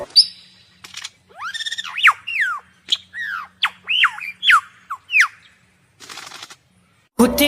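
A lyrebird mimics the calls of other birds: a string of about eight separate squawks and rising and falling whistled chirps, loud and close, with short pauses between them. A burst of hiss and a harsh noise follow near the end.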